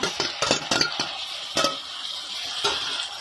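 Tomatoes, onions and green chillies sautéing in a pan, with a few quick loud spoon scrapes and clanks at the start over a light steady sizzle, close up and without speech.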